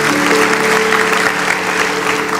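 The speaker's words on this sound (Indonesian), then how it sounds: "Kasih tepuk tangan untuk Tuhan Yesus." A church congregation claps and applauds loudly and continuously, a dense wash of hand claps filling a large hall, with faint voices mixed in under the clapping.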